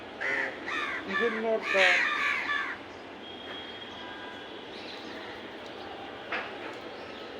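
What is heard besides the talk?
birds, likely crows, gathering to eat fruit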